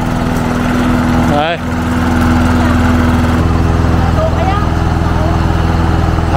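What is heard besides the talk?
petrol lawn mower running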